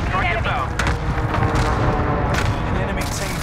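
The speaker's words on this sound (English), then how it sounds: "Allied cluster strike arriving." A cluster airstrike in a team video game pounds the area with a rapid burst of overlapping explosions, dense and close, under bursts of player chatter.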